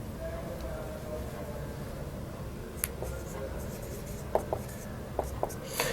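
Pen strokes scratching across paper during a basic maths lesson, faint and intermittent, with a few short ticks and scrapes over a low room hum.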